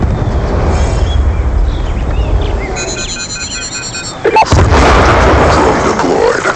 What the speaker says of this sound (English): Swarm inbound.